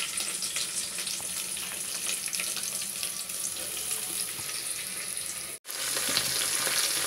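Okra, cluster beans and ridge gourd fry in a pan with a dense, steady sizzle close to the listener, briefly interrupted by a split-second gap before the crackle resumes.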